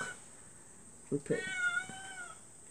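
Cat meowing indoors to be let out, a short chirp followed by a drawn-out, wavering meow, close and fairly clear over a quiet room.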